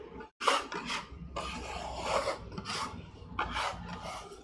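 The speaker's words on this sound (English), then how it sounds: "and just scrape it into a pile." A bench scraper scrapes food scraps across a cutting board into a pile, a series of rough rasping strokes, close and clear, with no talk.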